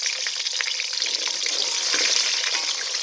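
Food fries in a pan, a steady, loud crackling sizzle that fills the whole stretch without pause and without talk.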